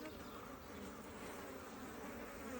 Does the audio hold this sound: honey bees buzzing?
yes